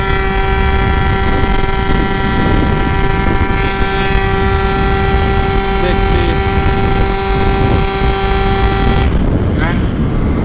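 A Phantom F12 RC car fitted with a Stage 6 overrange kit accelerates with a steady, high whining motor tone and wind rush, the pitch cutting off near the end as someone talks over it.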